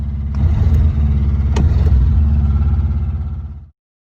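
A GM G-body car's engine runs at a stuck high idle with the choke working, a steady loud close drone with a faint clattery texture, cutting off abruptly near the end.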